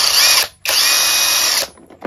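A cordless 20V 4Ah lithium-ion 1/2 inch impact driver wrench whirring loudly and close in two bursts, with a brief stop between them and silence after.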